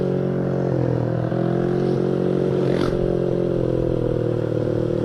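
A Honda Vario scooter engine idles close by with a steady low hum, then takes a light blip of throttle that lifts the pitch briefly before it settles back.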